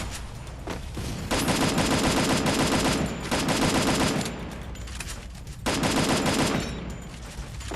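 In the Free Fire shooter game, automatic gunfire from behind rattles out in three long, loud sustained bursts separated by short pauses, with no voices over it.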